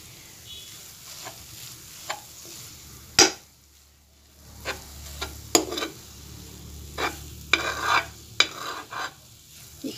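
Carrot barfi mixture is stirred and fried in ghee, with intermittent scraping strokes of a spoon against the pan over a soft, steady sizzle, close and moderately quiet.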